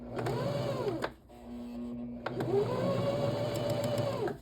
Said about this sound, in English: We're sewing so close to the edge here that it can be a little bit tricky.